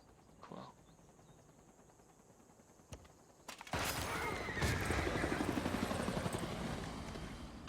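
A helicopter unit in Civilization 6 bursts into a loud, sustained rotor roar mixed with rapid gunfire, after a few faint isolated clicks and a quieter stretch.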